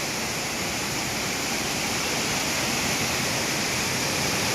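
A powerful waterfall pours in a dense, constant roar that fills the whole stretch without a break.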